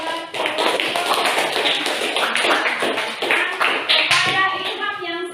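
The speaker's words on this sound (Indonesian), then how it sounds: "Berikan tepuk tangan buat" A classroom of students claps for a classmate who has just asked a question, giving steady, dense applause that fills the whole stretch without talk over it.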